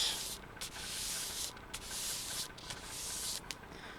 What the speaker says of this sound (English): And I'm just going to put my sheet of cardstock down, hold it with one hand, give it a rub